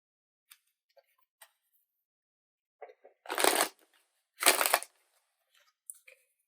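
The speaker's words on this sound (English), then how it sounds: "Sorry if these are loud, the cards, while I shuffle them." Playing cards are riffle-shuffled twice in quick, crisp bursts, close up, with a few faint taps and clicks around them.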